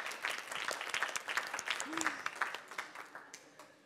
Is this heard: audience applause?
yes